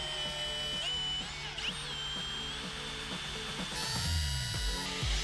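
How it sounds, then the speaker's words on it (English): A power drill bores into the deck lid of a brand new Toyota Supra, giving a steady whining drone with shifting pitch that turns into a heavier, rougher grind near the end. "that's where we're going to drill into your brand new Supra"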